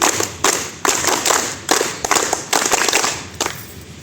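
Applause at a Bharat Scouts and Guides training program, a crowd clapping in several bursts separated by brief pauses, fairly close and lively.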